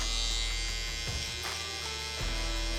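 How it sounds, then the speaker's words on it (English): An electric beard trimmer blending the top line of a beard during a shape-up, a steady close buzzing hum broken by a couple of short thuds and a change in pitch as it touches the hair, no voices. "So I'm gonna move to my trimmer. I'm just gonna blend out this top line for him."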